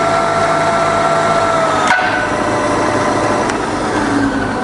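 A Bridgeport milling machine with a 42-inch table runs in high gear, producing a steady, even mechanical hum with a faint tonal whine and a couple of brief clicks, with no talking.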